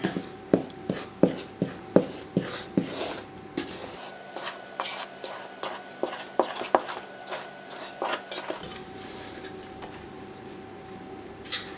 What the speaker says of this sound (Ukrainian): Гарно все перемішуємо.